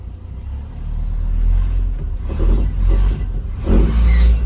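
A Ford Fairmont engine running 1bbl Sniper fuel injection revs up several times in a row, each rise a deep, close rumble swelling then easing back to idle, with no talking.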